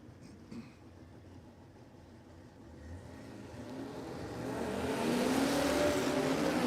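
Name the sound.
Radial drag cars, Toyota Corona and Hilux, launching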